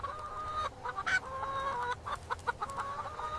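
Native chickens cluck repeatedly on a farm, a busy overlapping chorus of short calls at moderate distance over a low background hum.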